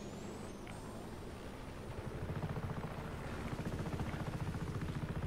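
A helicopter in the video game Just Cause 3 spins up, its rotor thumping rhythmically and growing steadier and louder over a low engine drone.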